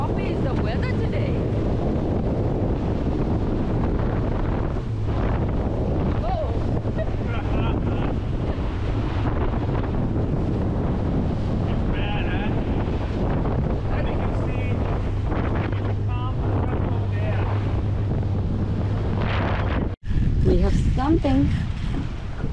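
Strong wind buffets the microphone on a small fishing boat on the Logan River, with choppy water slapping the hull in a steady roar throughout, and a voice talks over it before a brief break and louder gust near the end.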